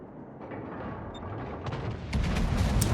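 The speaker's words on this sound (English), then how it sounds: "I'll get my salvo off here." A warship in World of Warships fires a gun salvo, heard as a rumbling low boom that swells and thickens toward the end over constant engine and sea noise, with a few sharp cracks layered on top.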